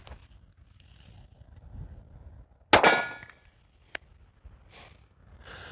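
A single 9mm pistol shot fired with Fiocchi 115 grain ammunition cracks out loud and sharp, then fades quickly amid outdoor wind noise, followed by a faint metallic click and quiet handling sounds.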